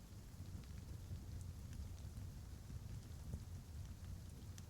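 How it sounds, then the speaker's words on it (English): Rain pours down in a steady, unbroken hiss that stays quiet and even throughout, with no voices. "the rain that is pouring down"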